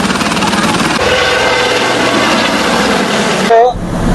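A helicopter engine runs close by at a tourist festival, a loud steady whine and thrum that continues throughout and breaks off briefly near the end.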